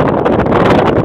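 Strong, gusty outdoor wind of about 25–30 km/h with gusts near 40 buffets the microphone, giving a loud, continuous roar with rapid surges and no speech.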